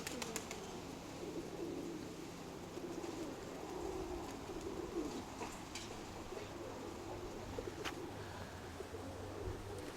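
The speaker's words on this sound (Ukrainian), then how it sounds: "Сідають потрохи голуби." Soft, low pigeon coos repeat faintly against steady outdoor background noise, with occasional light wing flutters.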